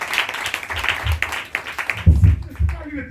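A church congregation claps and applauds in praise during a service, steady rhythmic clapping close by that mixes with voices and grows louder toward the end.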